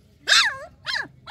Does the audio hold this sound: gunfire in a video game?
no